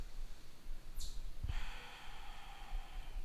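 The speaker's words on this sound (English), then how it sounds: "You might even want to take a few big exhales out the mouth." One big breath exhaled out through the mouth, a breathy rush starting with a sharp audible push and then trailing off in a steady soft whoosh, close and alone.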